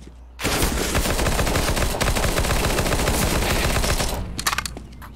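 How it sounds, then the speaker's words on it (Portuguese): AK rifle gunfire in the video game Counter-Strike: a sustained, rapid, loud burst of automatic shots lasting about four seconds, ending with a few scattered clicks, no talking. "Um tiro de AK em cada um, mano."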